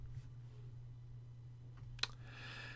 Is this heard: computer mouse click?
yes